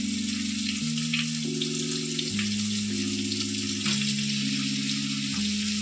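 Steady, loud sizzle of chicken frying in a pan for chilli chicken, continuous crackling and hissing with a droning tonal hum underneath and no talk.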